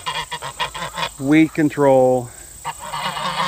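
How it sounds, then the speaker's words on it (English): Loud, close goose honks break in over a person talking, a couple of long harsh calls in a row. "The geese want to get on the show."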